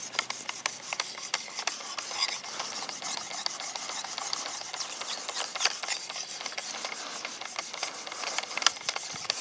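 A knife blade rasping against the abrasive stone of a Work Sharp Precision Adjust sharpener, continuous rapid close strokes of gritty scraping.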